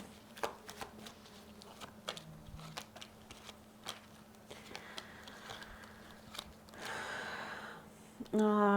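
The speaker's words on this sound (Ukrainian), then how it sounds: "Давайте я візьму карти і подивлюся." Tarot cards are handled and riffled nearby in soft flicks and taps, ending in a louder shuffling burst, with quiet breaths in between.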